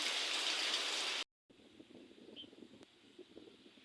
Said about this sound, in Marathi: अचानक भयानक हा एवढा पाऊस आलेला आहे आपल्याकडं